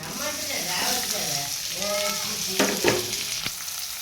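Onions, green chillies, ginger and mustard seeds fry in hot oil as a tempering, a close, busy sizzle with stirring scrapes and pops; a voice is faintly present in the background.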